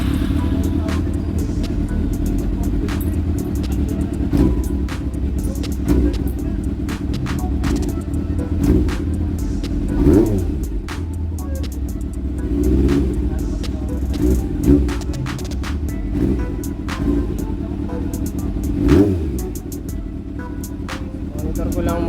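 A Honda CB400 motorcycle engine idles steadily and close by after a carburetor float valve replacement, a low, even rumble with a few slight swells in pitch and throttle throughout.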